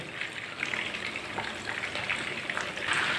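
Chicken roast fries in oil in a pan over a medium flame, giving a steady close crackling sizzle with small bursts of spitting throughout and no talk.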